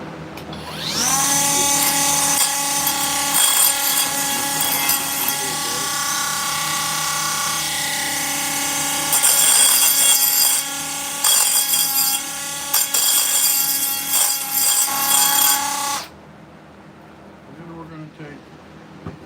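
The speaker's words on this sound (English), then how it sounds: "So we're going to take our grinder" Grinder carving black lace agate, a loud high-pitched whine with a steady tone that keeps going for many seconds, its pitch shifting slightly as the bit bites into the stone, then stops abruptly, leaving quiet.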